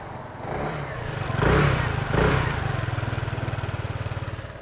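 A 2022 Kymco Like II S 125i scooter's small engine idles, then gets two brief blips of throttle that rise and fall, settling back into a steady, pulsing idle nearby with no talk.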